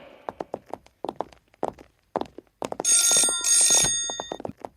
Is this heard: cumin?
no